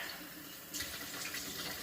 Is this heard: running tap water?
yes